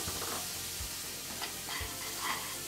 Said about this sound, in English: Pan's nice and hot and we're going to sear the scallops.